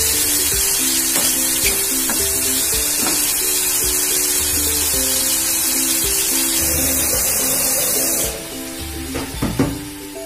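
Chicken pieces fry over high heat in a pan for chicken poha, giving a loud, steady sizzle close up. A few utensil knocks and stirring clatters come through, and the hiss drops sharply near the end.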